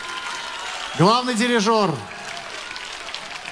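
Audience applauding an ensemble at an outdoor classical concert by the town hall, a faint wash of clapping running underneath while a man announces over it.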